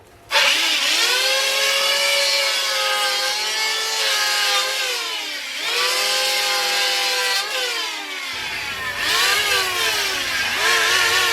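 A power tool motor whirs steadily with a high, harmonic whine that rises and dips in pitch several times, running close and loud without pause.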